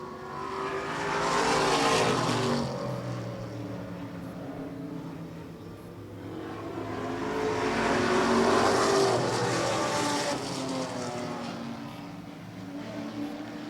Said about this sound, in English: Pelton brings it up alongside, wheel to wheel with Scott Tucker as Kevin Sherman leads it